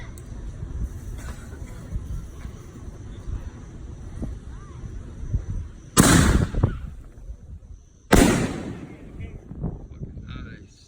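Two sharp, loud bursts ring out from 6-inch Supreme Fireworks Alien Invasion canister shells with mines, about two seconds apart. Each blast crackles as it fades, over quieter background murmur and distant noise.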